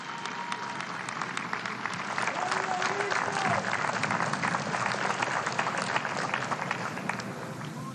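Audience applause at an international peoples' assembly with a Colombian delegation, steady dense clapping from a large crowd filling the whole stretch at an even level.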